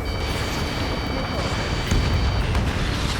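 In the aerial combat game Ace Combat 7, a missile explosion comes through as a dense, roaring rumble with a heavier burst about two-thirds of the way in, loud and continuous.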